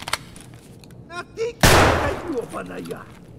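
Gunfire in a first-person extraction shooter game: a loud, sharp burst of shots cracks out midway and decays into reverberation, preceded by a few fainter pops and followed by quieter game noise.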